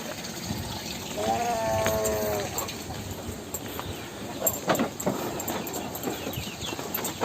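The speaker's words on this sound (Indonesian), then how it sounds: "Ada kambing." A goat bleats once in a quavering call on a lush rural farm with a fish pond, heard amid outdoor ambience with scattered knocks and rustles afterward.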